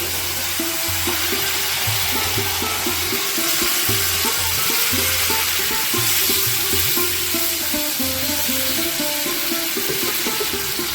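Brinjal hits hot spiced oil and fries with a constant loud sizzle, overlaid by repeated scraping and stirring strokes against the pan, with no voices.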